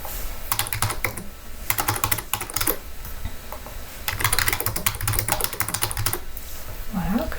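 Rapid bursts of clicking keys on a computer keyboard while a product description is typed in, close and busy, with short pauses between runs.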